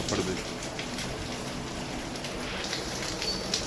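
Rain pours down steadily during an unseasonal shower, a dense, even hiss of falling drops heard up close with a few louder spatters.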